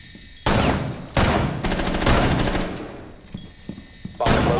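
Rapid bursts of video game gunfire from a bomb-assault match, loud and dense automatic fire in several sustained blasts with brief lulls and scattered single shots between them.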